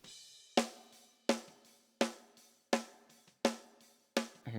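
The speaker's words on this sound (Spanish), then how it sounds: "En esta ocasión fue la Ludwig Acrolite" A Ludwig Acrolite 14x5 snare drum, tuned tight and high, is struck six times at a steady, unhurried pace. Each hit is a loud, close, sharp crack with a quick ringing decay, and no voices are heard.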